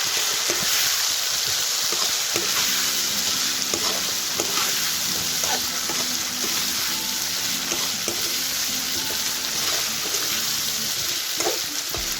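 Chicken curry meat frying in a pan while being stirred, a continuous hissing sizzle broken by scraping and knocking of a spoon against the pan, close and steady with no talking.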